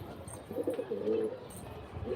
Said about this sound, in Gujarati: એમને હજી નવા નવા કબૂતર રાખ્યા હે